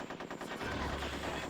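Rapid automatic gunfire from enemies in the video game Conker's Bad Fur Day, a quick burst of closely spaced shots followed by a rougher blast, fairly quiet and short.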